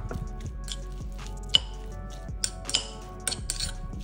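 Cream (malai) being mixed in a bowl by hand, with soft wet squishing and occasional light clinks of a spoon against the dish, close and fairly quiet.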